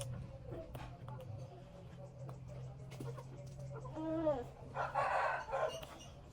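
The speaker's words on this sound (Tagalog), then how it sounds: "Dito kasi ang manok kasi." A rooster crows loudly nearby in the rain, its call rising and falling over steady low background hum, with rain noise and some voices around it.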